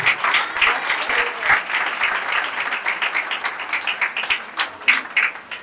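Congregation at a funeral service in Kinshasa clapping and applauding together, a dense, steady wash of many hands that swells in places and carries on for several seconds with no talk over it.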